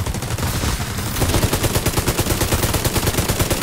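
Rapid automatic gunfire in The Division 2 as a large magazine is emptied into enemy tanks, a loud, dense stream of shots that thickens after the first second and keeps hammering without pause.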